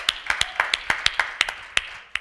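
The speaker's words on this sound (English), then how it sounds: "you give her a round of applause on that" A few people clap at a women's network workshop, sparse close-by claps in an uneven rhythm rather than full applause, quieting toward the end with no talking.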